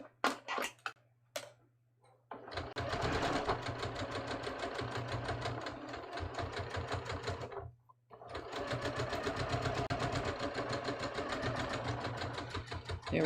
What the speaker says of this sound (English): I'm just going to sew this and catch both the layers this time